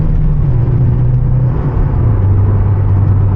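A BMW E30 M3's V8 engine, on a break-in tune, roars loudly and close, holding a high strained pitch that dips briefly then climbs again, pushing against its 5,000 RPM limiter.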